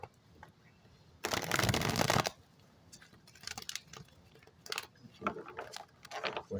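A brisk riffle of playing cards being shuffled, a single crisp burst lasting about a second, followed by quieter handling clicks and light taps.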